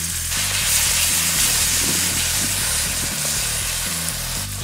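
A can of tomato sauce and Rotel hits browned alligator meat in a hot pot, giving a loud, steady sizzling hiss that runs throughout under background music.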